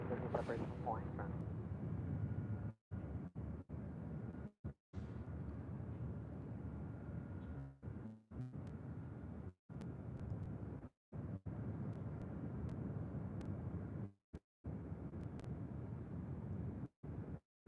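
A Spirit Airlines airliner rolls down the runway for takeoff at LAX with a steady, heavy low roar. Radio talk runs alongside it, and several brief dropouts cut the sound.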